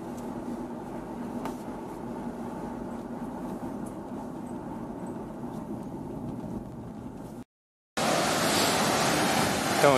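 Ocean waves break at Quatro Ilhas beach in Santa Catarina, a small beach with a dangerous sea, as a steady roar of surf with some wind that briefly cuts out, then returns louder.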